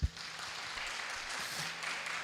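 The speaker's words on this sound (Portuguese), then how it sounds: "Uma salva de palmas para vocês." Brief applause from a church congregation, a soft wash of clapping that follows a single thump at the start.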